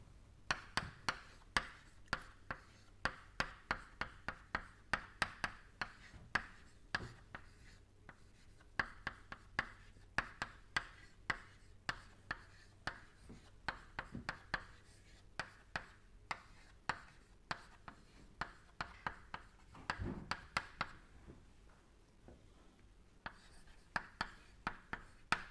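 Pen or marker strokes on paper or a board during a fluid mechanics lecture on flow visualization and acceleration, with steady sharp taps and scratches recurring throughout, close and fairly quiet, no speech.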